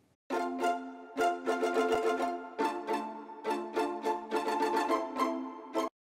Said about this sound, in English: They just follow the chords an octave higher just to make things interesting.